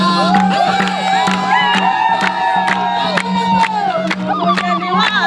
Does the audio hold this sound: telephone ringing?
no